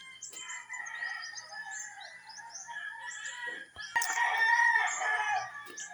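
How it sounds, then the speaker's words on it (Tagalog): Several roosters crow at dawn around 4:45 AM on a foggy rural morning, the calls overlapping and fairly near, with other birds chirping behind them and a louder burst of crowing toward the end. "wala kang maririnig kundi huni ng mga hayop. Lalo ng mga manok."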